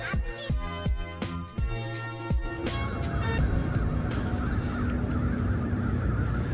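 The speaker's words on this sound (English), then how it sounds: "I hear those birds again." Crows caw loudly in a rapid series of harsh calls, then fade into a steady rumble of passing traffic.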